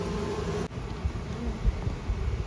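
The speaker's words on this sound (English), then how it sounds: "You can see all the bees in the air" Honeybees flying in the air around a hive box after a colony installation, a steady low buzzing hum with small swells, close by and continuous, with no talk.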